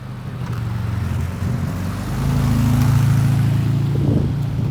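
A car drives by outdoors, a low engine hum that swells louder and closer partway through and holds steady, with light wind noise and no speech.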